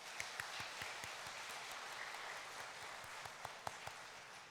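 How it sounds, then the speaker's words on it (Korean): A church congregation applauding during a Wednesday service, steady dense clapping at moderate distance with a few sharper claps standing out, no speech over it. "박수로 격려했으면 좋겠습니다"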